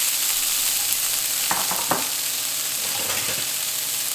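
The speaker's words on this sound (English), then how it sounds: "we're gonna just put all the tofu in here" Tofu pieces frying in hot oil in a pan give a steady, close sizzle throughout, with a few brief louder crackling bursts in the middle as the pieces hit the oil and settle.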